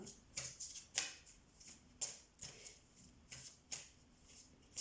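Tarot cards are shuffled by hand in quick, crisp riffles, about eight short bursts spaced roughly half a second apart, close and quiet, with no talking.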